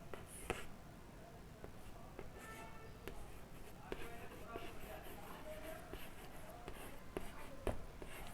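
Marker or chalk strokes on a classroom board during a class 9 polynomials lesson, a steady run of short scratchy writing sounds with brief taps, low in level against faint room noise.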